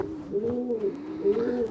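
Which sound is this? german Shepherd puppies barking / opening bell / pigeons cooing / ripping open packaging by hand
pigeons cooing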